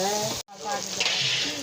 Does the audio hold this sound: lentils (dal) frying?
yes